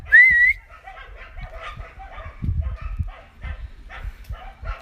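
A pet dog outdoors gives a series of short, fairly close barks and yips in a loose, irregular rhythm, preceded by a brief whistle.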